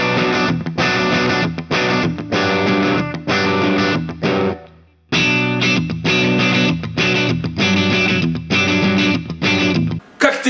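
Electric guitar through a Radial Tonebone Hot British distortion pedal, loud, dense driven chords in two phrases separated by a short gap near the middle.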